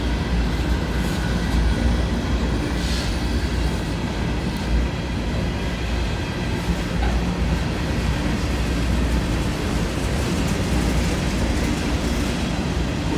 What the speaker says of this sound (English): Seen a lot of grain trains lately.